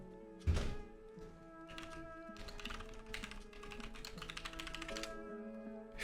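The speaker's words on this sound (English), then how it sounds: "Furious clicking." Rapid, frantic clicking of a computer keyboard and mouse rattles on continuously during a Warcry listbuilding session, opening with a single heavier thunk, then dense bursts of keystrokes over a low background hum.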